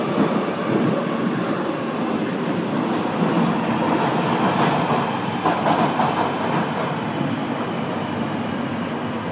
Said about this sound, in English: This is a Northern Line train terminating at Morden.